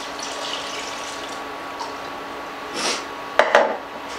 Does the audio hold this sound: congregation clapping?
no